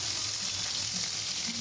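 Fish pieces fry in hot oil for a curry with bottle gourd, a dense, even sizzle heard up close with nothing else over it.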